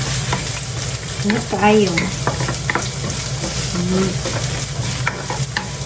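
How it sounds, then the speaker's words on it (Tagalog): Onion and garlic sautéing in a pan for chicken lomi, giving a steady close sizzle with stirring scrapes, while someone talks briefly over the frying. "ginisa muna natin mabuti yung onion tsaka yung garlic"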